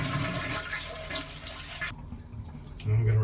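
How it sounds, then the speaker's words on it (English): A household toilet being emptied for repairs flushes with a loud rushing surge of water that cuts off sharply partway through, followed by quieter draining and a low refill hum, close by. "And then flush it so everything drains out."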